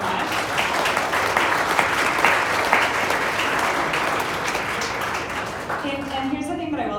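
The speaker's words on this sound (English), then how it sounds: "one more round of applause for these folks" Steady round of audience applause at a Denver Startup Week session, a dense continuous clapping wash for about six seconds that fades out as a speaker begins talking at the end.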